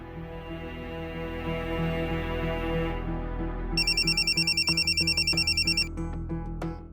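A telephone rings in a trilling electronic pattern of rapid repeated pulses over a sustained musical soundtrack in a Telugu TV serial scene, with no speech.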